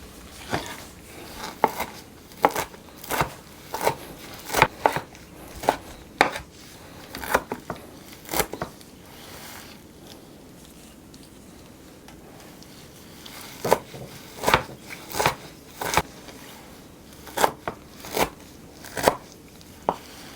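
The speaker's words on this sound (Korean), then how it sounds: "아까 씻어서 건져 놓은 냉이를 쏭쏭 썰어서 일단 좀 넣을게요" Knife chopping shepherd's purse (naengi) greens on a cutting board: bursts of crisp, close taps in quick runs, with a quiet pause in the middle before the chopping resumes.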